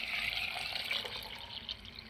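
Tap water running over peeled beans as they are rinsed, a soft continuous splashing trickle close by, brief and fairly quiet.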